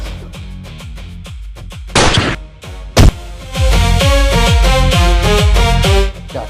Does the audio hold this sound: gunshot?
yes